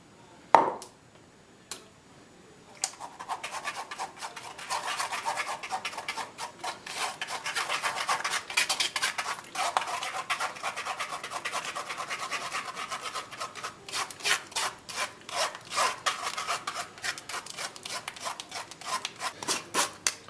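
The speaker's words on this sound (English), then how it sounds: "I'm just going to put it through a sieve" Blended butter chicken sauce is pushed through a sieve with steady, close scraping and rubbing that starts after a sharp tap and continues in uneven strokes, faint and alone, without speech.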